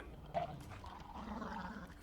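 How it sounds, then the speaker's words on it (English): A guard-dog-like creature in a Star Wars film (Attack of the Clones) growls low and rough, a short throaty snarl with a brief sharper yelp, heard faintly and briefly. "there has to be some sort of guard dog-like creature"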